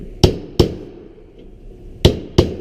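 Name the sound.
tapping metal duct fitting into place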